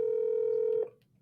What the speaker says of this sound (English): So let's call him